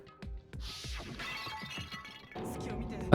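A glass Monokuma bottle smashes over someone's head as a video game effect in Danganronpa: Trigger Happy Havoc, a sharp shatter followed by a scattered run of tinkling shards and clinks that fade out, heard without any talking.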